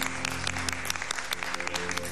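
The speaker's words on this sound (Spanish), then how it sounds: "Un aplauso." A studio audience breaks into applause for police officers who defended the country. Dense, loud clapping fills the full two seconds, steady and close, with a faint tonal bed underneath.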